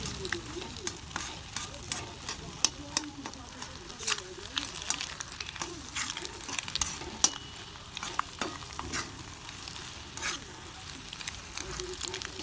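Eggs with egg masala, red chili powder and coconut are sautéed in oil in a pan, giving a steady crackling sizzle punctuated by frequent clicks and stirring scrapes, while a person talks faintly under the frying.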